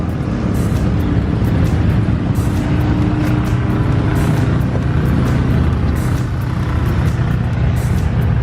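A 2015 Lamborghini Huracan engine runs loud and close at a drag strip, a dense, continuous roar that stays steady throughout with no talking.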